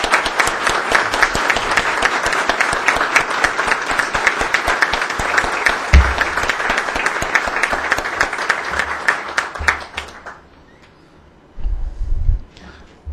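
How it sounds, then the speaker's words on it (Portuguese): A meeting room crowd at a tribute to a director gives a loud, dense round of applause that holds steady for about ten seconds, then stops abruptly, leaving quiet room noise and a couple of low thumps. "Proponho uma salva de palmas para o Dr."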